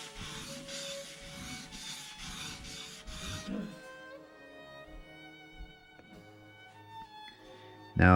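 A Japanese chisel rasps back and forth on a whetstone in rapid repeated strokes, then the rubbing thins to scattered light scrapes over a soft musical background.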